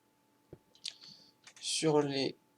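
Levers flip in the Minecraft video game, heard as a few short, faint clicks spaced apart, followed by a brief louder tonal burst.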